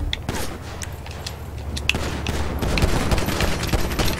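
Bursts of gunfire ring out in a GTA RP street scene at a gas station, sharp cracks scattered over a steady low rumble of engine and ambience, with voices faintly present underneath.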